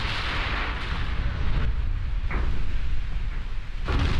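Battleship gunfire from the naval warfare game Ultimate Admiral Dreadnoughts, a steady wash of heavy booming artillery rumble with a few sharper bursts, loud and continuous throughout.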